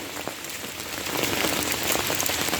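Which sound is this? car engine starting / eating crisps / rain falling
rain falling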